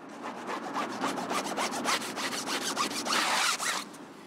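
A brush scrubs low-profile car tyres during wheel cleaning, giving a rapid, rhythmic back-and-forth rasping up close with no talk.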